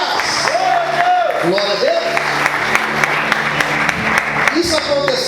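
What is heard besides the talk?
congregation applauding in church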